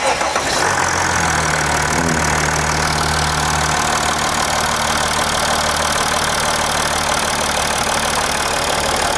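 A car engine cranks and catches after battery and alternator repair work, then settles into a steady, loud idle that runs on alone with no talking.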